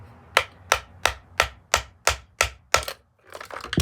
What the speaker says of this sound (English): then kind of hit it with the back of something.